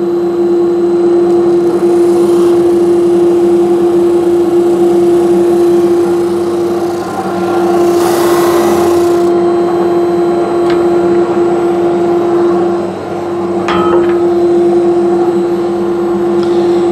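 A Holzprofi PB560 sanding machine runs steadily while sanding wood in a workshop, a loud constant motor drone with a couple of brief swells and dips as the workpiece passes through, with no talking.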